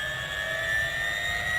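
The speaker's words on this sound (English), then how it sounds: "I think what I'm going to do is jump in the old helicopter" A helicopter in Farming Simulator 15 gives a steady engine whine with sustained tonal hum and a low rumble beneath, continuous and even for the whole short stretch.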